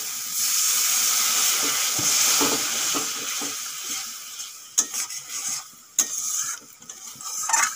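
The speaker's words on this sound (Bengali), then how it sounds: "এখন দিয়ে দেবো সামান্য জল।" A little water goes into a frying chicken masala, with a loud, rushing hiss that swells and fades, then spoon knocks and scraping in the pan.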